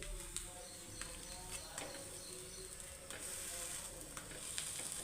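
Chapati roasting on a hot pan, a faint, steady low sizzle with occasional light ticks and a faint bird call in the background.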